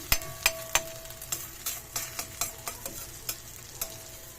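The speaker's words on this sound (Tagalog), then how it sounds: "malapit na maluto ang aking itlog na may sibits at kamatis" Egg frying with onion and tomato in a pan, a steady close sizzle broken by a dozen sharp utensil scrapes and taps at an uneven rhythm, with no talking.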